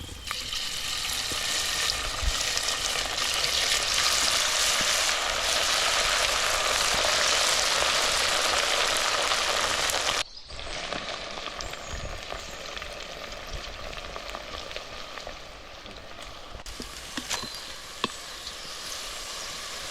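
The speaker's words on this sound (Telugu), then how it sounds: "ఆ కోటింగ్ని ఆయిల్లో ఫ్రై చేసుకోవాలి" Coated chicken pieces for Schezwan chicken fried rice fry in hot oil, a loud, dense, steady sizzle that drops sharply partway through, then continues more quietly with occasional clinks and stirring.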